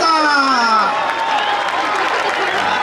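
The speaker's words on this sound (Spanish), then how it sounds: "¡Un aplauso a Lupita!" A festival crowd in Juchitlán, Jalisco cheers and applauds for a woman named Lupita, a loud, dense wash of clapping and voices with a falling whistle-like tone at the start.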